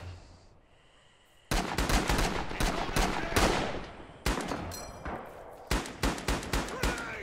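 Combat in the video game Rising Storm with a US autorifleman's M1918 BAR: a sudden loud burst after a quiet lead-in, then dense overlapping gunfire and blasts, including a grenade explosion, ending in a series of sharp shots.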